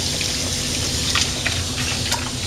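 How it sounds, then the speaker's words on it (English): Steady hiss of hot water running from a solar-heated tap, continuous and fairly close, with a few faint clinks and splashes over the flow. "I'm just gonna let the hot water run."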